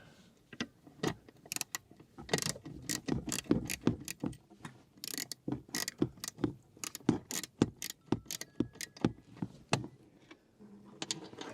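Socket ratchet clicking in quick bursts while a bolt is tightened onto a VW T4 clutch master cylinder bracket, close and fairly loud, with sharp repeated ticks and short pauses and no talk.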